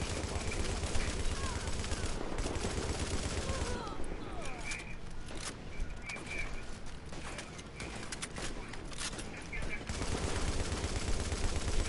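Automatic gunfire in The Division, loud bursts and sustained volleys with short breaks, mixed with game chatter and bird-like calls in the background, a voice talking over parts.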